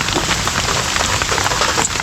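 Steady rain falls on a surface by a river, a dense, even patter of drops filling the whole stretch with no voices.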